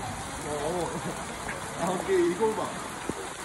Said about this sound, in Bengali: এই বৃষ্টির দিনে,